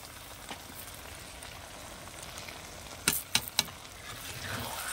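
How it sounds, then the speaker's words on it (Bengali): Sugar poured into a pan of chalta (elephant apple) pickle makes a soft, steady sizzling hiss, with a few sharp clinks partway through. "এই যে চিনিটা ঢেলে দেবো।"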